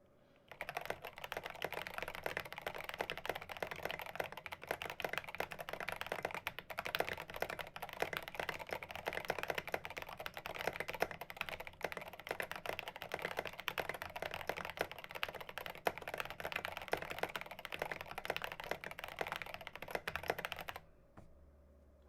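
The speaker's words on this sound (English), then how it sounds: "I'm gonna try typing with the feet up." Rapid, continuous clacking of keys on a rebuilt Dolch Pac 60 mechanical keyboard with a TKC1800 PCB and feet up, fast steady typing close by that runs on for about twenty seconds before stopping.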